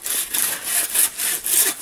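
A hand saw cutting through a Christmas tree trunk outdoors, with rhythmic rasping strokes of about six back-and-forth pulls, loud and close, and no voices.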